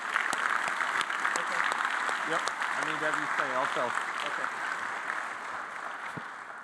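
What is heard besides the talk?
audience applause at graduation ceremony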